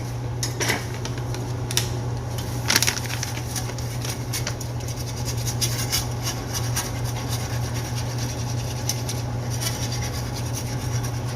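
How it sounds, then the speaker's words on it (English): A whisk scrapes and rattles against a pan while stirring sauce for keto smothered pork chops, a continuous rubbing patter with occasional metallic clinks over a steady low hum. "it's probably best to use a whisk"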